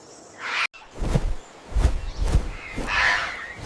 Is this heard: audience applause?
no